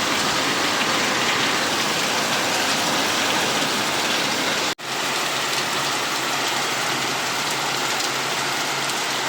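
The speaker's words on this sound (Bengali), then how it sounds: "দেখো কি হারে বৃষ্টি হচ্ছে বন্ধুরা" Heavy rain pours down steadily outside a garage, a dense, even downpour that fills the scene without pause, with only a brief cut partway through and no voices.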